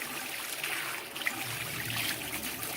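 Water runs steadily from a hose to rinse the inner walls of a nutrient tub, a soft continuous trickling and splashing close by with no talk.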